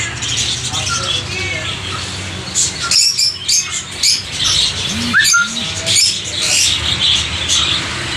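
Cockatiels, lovebirds and other caged birds at a Sunday bird market in Chichawatni chirp and squawk in a busy mix, with sharp calls standing out near the mic over market noise and talk.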